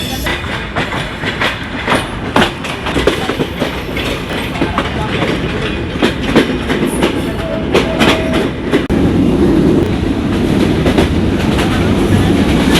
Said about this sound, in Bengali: ঠিক 4টায় পদ্মা এক্সপ্রেস ট্রেন ঢাকার উদ্দেশ্যে রাজশাহী স্টেশন ছেড়ে যাচ্ছে